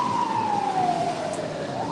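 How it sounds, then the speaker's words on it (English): Emergency vehicle siren, such as a fire truck or ambulance, in a single steady descending wail heard in the distance over continuous street noise. "Fire trucks, ambulances."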